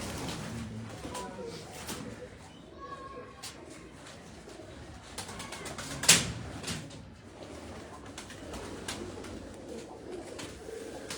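Shahi pigeons coo softly at a distance on a rooftop, low murmuring calls mixed with scattered clatter and one sharp knock, with faint voices in the background.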